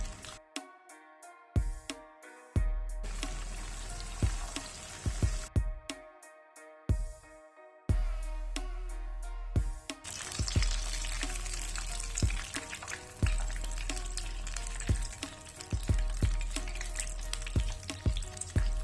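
Frozen egg tempura frying in hot oil, a steady bubbling sizzle broken by sharp clatters and taps of utensils, loud and close with no talking.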